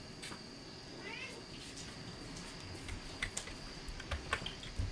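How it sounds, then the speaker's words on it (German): A hungry house cat meows a few times in a quiet room, fairly close and faint, alongside light clicking of keyboard and mouse. "die Katze wird erstmal gefüttert, bevor sie hier noch halb durchdreht"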